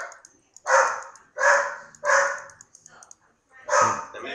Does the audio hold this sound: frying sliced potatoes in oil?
no